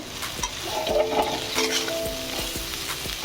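Dhenki shak greens land in a pan of frying onions with mustard paste, giving a steady close sizzle with light stirring scrapes and a few soft clinks throughout.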